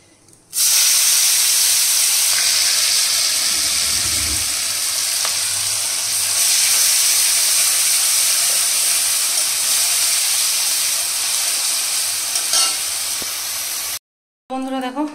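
Grated onion with turmeric, bay leaf and black cumin frying in hot oil, giving a loud, steady spitting hiss that runs almost unbroken for about fourteen seconds before cutting off, with a brief burst afterward.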